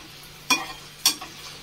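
Masala being roasted in about one and a half tablespoons of butter in a pan, a quiet background with two sharp stirring scrapes and short sizzle bursts spaced about half a second apart.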